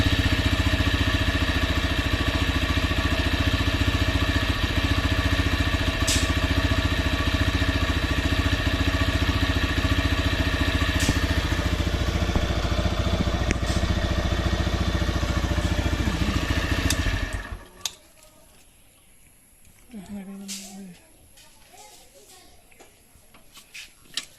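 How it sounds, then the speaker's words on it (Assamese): A TVS Rider 125 motorcycle engine idles steadily and close by with a low, even rumble, then cuts off abruptly, leaving quiet room noise. "বাকী বাইকখনৰ আৱাজটো এবাৰ শুনি লওক আপোনালোকে ভালকৈ।"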